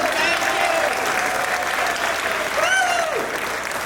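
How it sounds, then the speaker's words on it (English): Sustained applause from an award ceremony crowd, many hands clapping steadily and close, with a brief whistle or voice rising over the clapping. "Thank them and clap for them"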